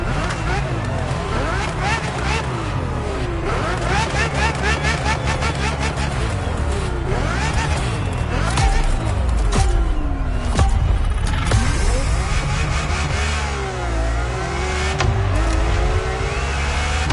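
Ferrari F50 engine sound from the racing game MotorFest, a steady loud roar with shifting revs and a few gear-change sweeps, heard throughout beneath a continuous narrating voice.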